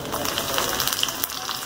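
Cumin seeds frying in hot oil in a pan, a steady close crackling sizzle with fine pops throughout the short stretch.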